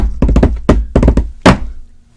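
A drum fill imitated by banging a head down on a hard surface: a rapid run of loud, close thumps in quick irregular bursts, ending with one heavier thud that rings out, with no talking.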